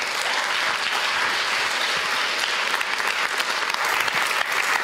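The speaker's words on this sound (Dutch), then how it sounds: "mag ik alsjeblieft een hartelijk applaus voor hoogleraar" Warm audience applause for professor Edith Hooge, a dense, even wash of clapping from a large crowd that holds steady throughout with no talk.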